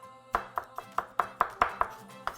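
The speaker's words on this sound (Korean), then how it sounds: "오늘은 장어 덮밥에 올라가는 거는 채를 썰어주세요" A knife on a cutting board slices garlic into thin julienne strips for an eel rice bowl, with about ten crisp, evenly spaced chops, close and clear, and no talk.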